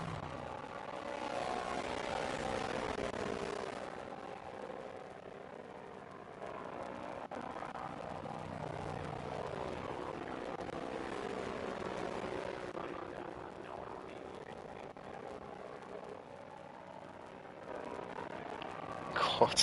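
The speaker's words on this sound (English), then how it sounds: "I apologise for the terrible noise, by the way, from the engines." Racing car engines in a sim racing game's spectator mode produce a glitchy, droning whine that swells and fades, buzzing like aircraft propellers under commentary voices.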